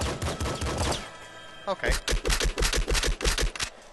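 Rapid bursts of gunfire in the video game Nuclear Throne follow a brief spoken word, with loud, evenly spaced shots repeating steadily for about two seconds.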